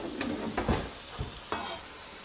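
Bell pepper cooking in a pan, a soft steady sizzle with a few brief clinks and stirring knocks spread through the stretch, fairly close and with no talking.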